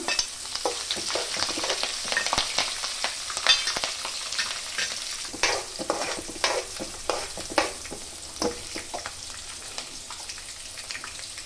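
Green chillies go into a pan of frying peanuts, setting off a busy crackling sizzle with sharp pops and the scrape of stirring, close and steady with no voices.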